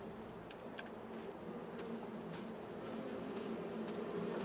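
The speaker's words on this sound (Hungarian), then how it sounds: "Itten dörögnek a méhek!" Steady, dense insect-like buzz of bees at hives in Farming Simulator 22, holding at an even level and swelling slightly toward the end, with no one speaking.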